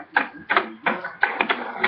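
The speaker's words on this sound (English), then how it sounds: "Yeah, I just typed in RJ Jones Minecraft" Keys tapped to enter a search on a game console, a quick run of clicky keystrokes in short bursts with brief pauses, close and moderately loud with no voices.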